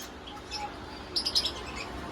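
A quick burst of three or four high, bright chirps from pigeons nearby in a pigeon shop, over a steady indoor hum, with scattered fainter calls before and after.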